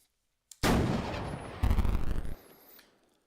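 A tank gun fires in the video game Armoured Commander II: a sharp, loud blast followed by a rumbling roll, then a second heavy crack and thudding impact that dies into a quiet tail.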